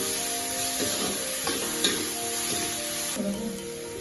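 Ginger-garlic paste and onions frying in a pan for chicken curry, a dense, even sizzle up close with a few soft stirring scrapes and no voices.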